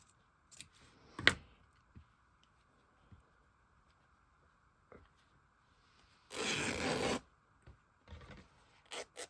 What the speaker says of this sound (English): It's snipped over there, so I'm going to snip this over here.